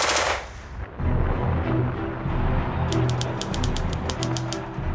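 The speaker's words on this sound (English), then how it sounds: "At the time when it was manufactured, it probably was the Rolls-Royce of machine guns." A vintage machine gun from the Second World War era fires a rapid burst of evenly spaced, crackling shots at moderate distance, against a low background rumble with no talking.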